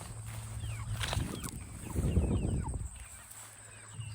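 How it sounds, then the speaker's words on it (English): Broiler chickens in Salatin-style chicken tractors on a farm, clucking and squawking in a loose cluster at close range over low outdoor rumble, with no talk. "we're going to come over and check out the broilers"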